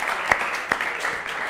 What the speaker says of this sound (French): On applaudit quand même pour notre invité.